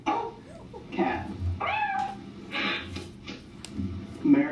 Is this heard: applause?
no